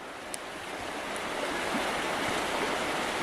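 A river runs beside a thick-forest walking track on a rainy day between Lake Daniell and Marble Hill, giving a steady broadband rush of flowing water with no breaks and no voices.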